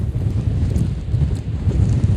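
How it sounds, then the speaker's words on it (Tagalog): Strong wind buffets the microphone outdoors during shrimp fishing, a rough, fluctuating low rumble that swells and dips continuously. "Mga idol, lakas ng hangin."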